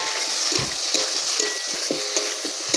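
Chopped capsicum and onion fry in a pan for an egg masala curry, giving a steady bright sizzle with repeated stirring scrapes and small clicks of the spatula, close by and with no talk.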